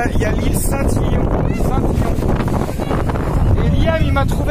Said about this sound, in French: il y a du vent sur moi, je suis désolé